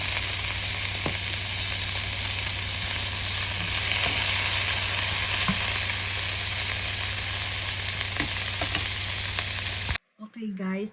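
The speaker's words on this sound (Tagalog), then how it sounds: "I-fry natin itong slice natin na tuna. Right? Para medyo crispy siya." A slice of tuna fries in a pan, giving a loud, steady sizzle with a few faint clinks, then cutting off sharply into near silence at the end.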